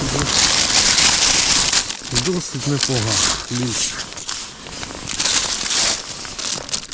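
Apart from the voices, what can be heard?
plastic bag crinkling as caught crucian carp are packed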